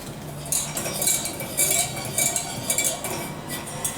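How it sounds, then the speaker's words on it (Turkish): A spoon scrapes and clinks against a pan as flour is roasted for lasagna, making a series of close, rhythmic metallic strokes about every half second with a soft rustle between them. "hafifçe çıkana kadar unumu kavuracağım."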